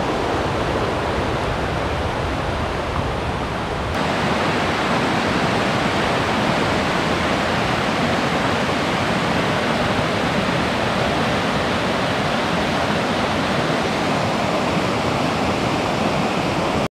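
A river in the Smoky Mountains rushes steadily through a shaded, humid forest, a broad continuous wash of water that is close and unbroken for the whole stretch, with no voices over it.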